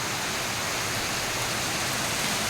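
Heavy monsoon rain in Mahabaleshwar pours in a dense, constant roar over farmland, steady and close with no pauses.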